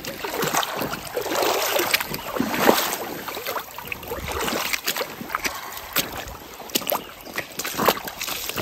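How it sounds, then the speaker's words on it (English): A hiker wades through a creek crossing on a trail, with repeated close splashing and sloshing of water under steady wind buffeting the microphone, and no talking. "Yeah, I think I'm gonna just slosh right through."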